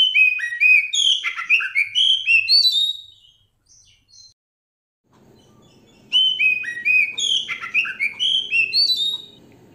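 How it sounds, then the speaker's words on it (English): An oriental magpie-robin sings loud, clear whistled phrases in two bursts separated by a few seconds of near silence, with a faint low hum under the second burst. "Magpie robin."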